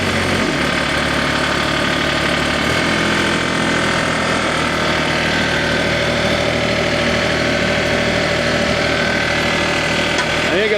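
Diesel engine of a Baumalight TRL630D mini skid steer running, a loud, steady close rumble with knocking vibration throughout, with a voice partly audible under it.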